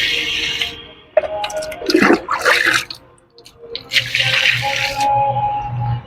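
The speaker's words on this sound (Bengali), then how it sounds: "এবার সাদা জল বেরোচ্ছে দেখুন সাদা জলটা সাদা হয়ে গেছে" Water splashing and trickling out of a potted rose plant, coming in close bursts of running and dripping with brief pauses between them.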